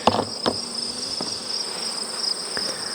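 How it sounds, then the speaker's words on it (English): Honey bees buzz around mating nucs in a bee yard, a steady high insect drone close by with a few faint knocks and no talking. "Oh, lots of bees."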